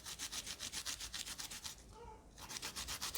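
An ingredient for homemade cough syrup is grated by hand in quick, regular rasping strokes, close and quiet, with a brief pause in the middle before the rhythm resumes.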